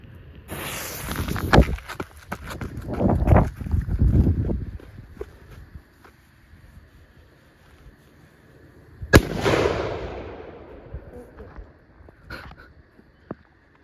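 A Trueno Detonante 2 firework goes off in a burst of crackling bangs, followed by a sharp louder blast later and scattered pops, heard outdoors at moderate distance.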